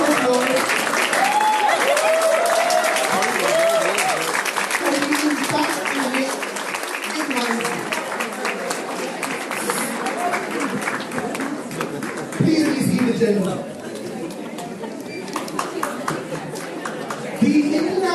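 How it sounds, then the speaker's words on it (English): Large audience at a Women's Day corporate event gives sustained applause for a standing ovation, steady dense clapping mixed with crowd chatter and cheering voices, filling the room throughout. "Let's give these women a huge standing ovation and a round of applause."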